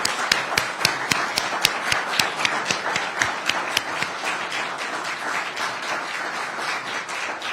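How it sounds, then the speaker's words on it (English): Applause from an audience at a governor's clemency announcement event in a university hall: a dense wash of claps with sharp individual hand claps standing out near the start before settling into a steadier patter. "Let us give a huge round of applause to this extraordinary group."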